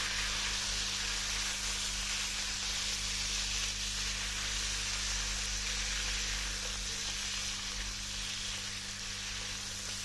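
Garden eggs sizzling steadily in a hot pan as salt is stirred in, giving a continuous close hiss with no break and no voices.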